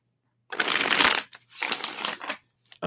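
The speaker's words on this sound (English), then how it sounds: "Let's give these a shuffle." A deck of tarot cards is shuffled twice in quick succession, each a dense, crisp riffling burst about a second long, close and clear, followed by the start of a third.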